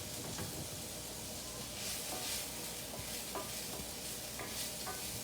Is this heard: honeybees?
no